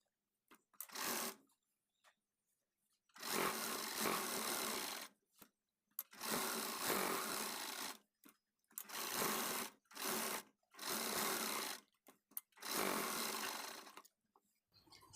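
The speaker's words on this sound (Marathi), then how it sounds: "आता इथे आपण साईडनी पण टीप टाकून घेऊ." Sewing machine stitching along the side seam of a blouse, running in six or seven distinct bursts of a few seconds each, separated by short silent pauses, close and clear with no talking.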